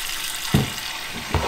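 Steady tap water runs into a sink while a cast iron pan is washed, a continuous close hiss with a couple of brief splashy clunks.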